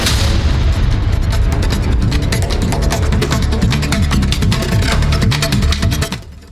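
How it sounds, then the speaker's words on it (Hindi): Bombs dropped from drones during a Russian strike on Ukrainian artillery positions, heard as a dense, continuous roar of booming blasts and rapid crackling bursts that stay loud throughout before cutting off abruptly. "ड्रोन से गिराए बम।"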